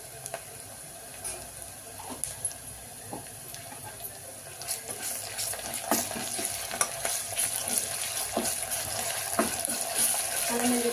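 Chopped onion and ginger-garlic paste fry in a pressure cooker for potato masala curry, with a bright crackling sizzle broken by frequent stirring clicks that grows fuller and louder toward the end.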